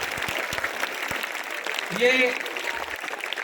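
Applause from the audience at a school cultural program for Independence Day, a steady crowd clapping under a voice speaking over it.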